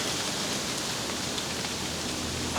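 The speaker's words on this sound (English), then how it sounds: "Plus it's windy, it's cold and rainy." Steady rain hissing outdoors in cold Missouri woodland, a dense even wash of drops with gusty wind noise underneath, continuous and fairly close, no voices.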